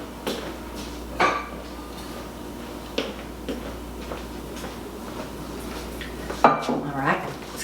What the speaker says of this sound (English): So let me grab a little bowl.